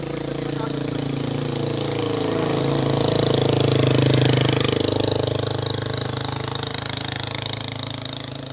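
A motorcycle engine rumbles steadily, its drone rising and swelling toward the middle before easing slightly, with a voice faintly present.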